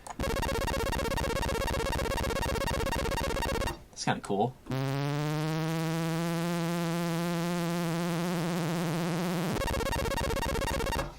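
Loud, dense electronic tones from the Helm synthesizer with a harsh buzzing texture, broken by a brief gap, then a sliding, warbling synth drone before the buzzing returns. A voice speaks briefly.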